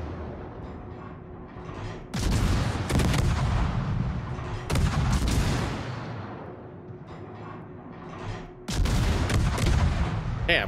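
Heavy gunfire from a naval battle in the game World of Warships: deep booming salvos burst out at intervals over a constant low rumble, loud and close, with a few fainter rattling shots between.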